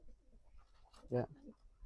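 A pet pigeon in a loft after rain gives a single short, soft coo close by, with faint rustling and quiet background sounds around it.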